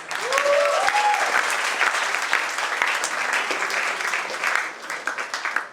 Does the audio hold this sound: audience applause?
yes